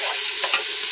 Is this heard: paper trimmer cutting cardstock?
no